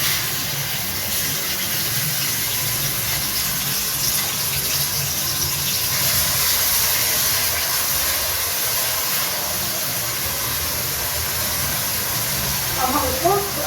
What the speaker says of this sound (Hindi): ऑयल गर्म हो चुका है, अब हम इसमें ऐड करते हैं प्याज